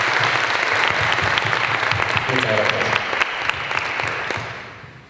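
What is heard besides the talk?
audience applause for a teacher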